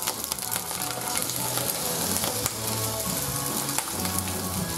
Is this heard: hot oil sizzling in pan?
yes